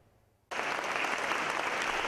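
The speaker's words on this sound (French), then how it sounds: "Des applaudissements nourris pour le professeur Fadlo Khouri" Applause for Professor Fadlo Khouri, president of the American University of Beirut, bursts in abruptly after a near-silent moment and continues as a dense, even roar of many hands.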